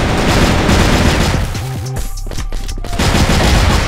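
Rapid bursts of pistol and automatic gunfire with explosions in a shooter video game, loud and continuous throughout, with a brief dip in the middle.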